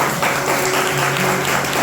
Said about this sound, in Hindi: एक बार जोरदार हाथ ताली बजाइए